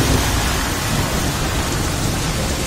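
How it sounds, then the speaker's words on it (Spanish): Heavy rain pours down during a thunderstorm in the streets of Aranjuez, a loud, dense, unbroken roar of rainfall with low rumbling thunder underneath. "y sobre todo los truenos. Muchísimo agua, ya os digo, corriendo por las calles."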